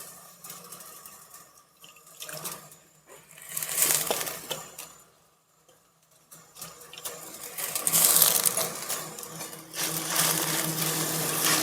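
Grated potatoes, already rinsed, tipped into a bowl of water and stirred for a potato and semolina ring recipe, giving wet sloshing and splashing in bursts with a quiet pause midway, close and fairly soft.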